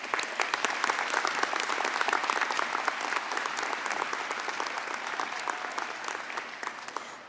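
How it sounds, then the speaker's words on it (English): Audience applause at a nursing college commencement ceremony: steady, dense clapping from a large crowd that holds a level roar, fading slightly toward the end, with no talking over it. "Please join me in a round of applause for all of our award winners today."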